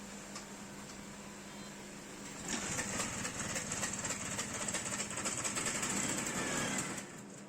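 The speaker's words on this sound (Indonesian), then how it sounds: "tinggal kita sela-sela aja sampai mesinnya nyala" A Motovespa largeframe two-stroke scooter engine starts and settles into a loud, steady, buzzing idle with a rapid knocking pulse, close up, after a quieter lead-in.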